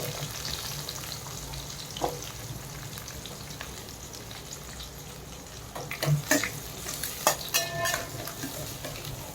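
Red chillies, shallots and curry leaves fry in a pan with a steady, soft sizzle, broken by a few sharper stirring scrapes and clinks near the end.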